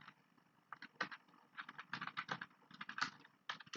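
Keystrokes patter across a computer keyboard as a search query is typed, in quick irregular bursts with brief gaps, close but quiet.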